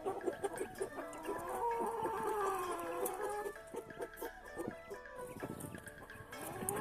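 Hens on a small farm cluck and chatter continuously at close range, with overlapping calls and a brief crowing-like rise among the flock.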